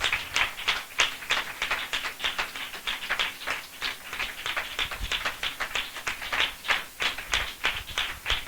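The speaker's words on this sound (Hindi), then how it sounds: "हम जोरदार तालियों से उनका स्वागत करें।" A congregation claps in welcome at a spiritual passion assembly, in sharp rhythmic unison, beating steadily at roughly two claps per second, loud and close, with little talk.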